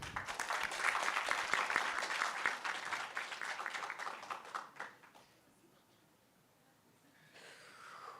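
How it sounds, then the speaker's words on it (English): An audience claps for about five seconds to welcome a speaker to the podium at a health hackathon winner announcement, then the applause fades into quiet room tone with a faint sound at the end. "Please join me in welcoming the PS to the podium with a round of applause."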